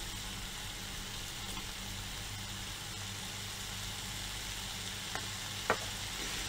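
Zucchini slices frying in a pan, a constant close hiss and sizzle that holds steady throughout, with a couple of brief clicks near the end.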